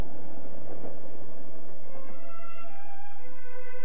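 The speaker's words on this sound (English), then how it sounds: "The train stopped in Salzburg for several hours." A train rumbles steadily, then its brakes or wheels give off high, sustained squealing tones as it slows to a stop at Salzburg.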